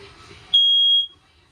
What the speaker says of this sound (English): Does have a working smoke detector.